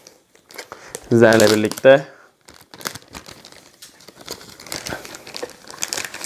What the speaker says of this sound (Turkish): Ve ürünü şimdi poşetinden çıkaralım.